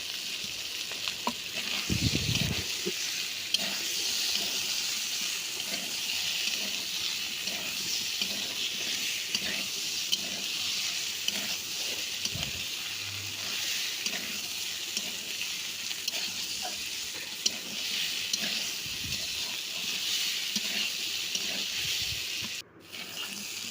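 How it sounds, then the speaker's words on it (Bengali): Potatoes frying in oil with masala-coated snakehead fish in a pan, a steady, moderate sizzle running throughout, with a few scattered stirs and knocks and a brief dip near the end. "আলু দিয়ে দিলাম আলুটা দিয়ে ভালো করে কষে নিব"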